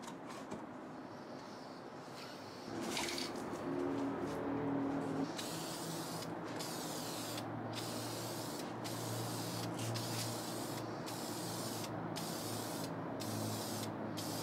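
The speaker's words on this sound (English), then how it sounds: "so I finished spray painting the sun visors" Soft hissing bursts of an aerosol spray can painting car sun visors, repeated in short sprays with brief gaps, faint and close.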